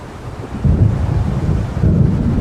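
Thunderstorm in the game Alan Wake: a deep, rolling rumble of thunder swells twice over a steady wash of storm noise, loud and close, with no voices.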